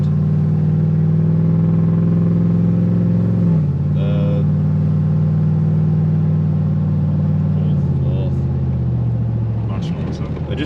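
A Nissan GU Patrol with an L98 V8 and 6L80e automatic accelerates loudly and close, its engine note rising then dipping at each gear change, with voices briefly audible over the drone.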